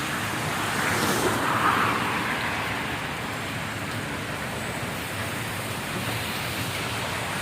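Heavy rain falls at Marina Bay in Singapore as a dense, steady hiss with a slight swell near the start, and no voices are heard.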